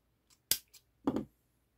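Scissors snip crochet yarn close by in a quiet room, two or three quick sharp clicks and a brief crunching cut, with no talking.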